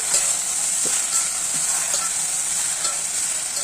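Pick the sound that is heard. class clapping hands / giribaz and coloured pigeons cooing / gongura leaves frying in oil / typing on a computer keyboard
gongura leaves frying in oil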